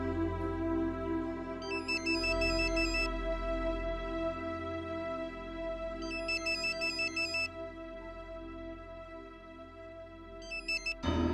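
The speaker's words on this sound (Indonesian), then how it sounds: "Hani telepon Roy dulu ya" A telephone ringtone sounds as a call is placed, its bright electronic melody repeating in three separate bursts over a steady background of sustained music, with no talking.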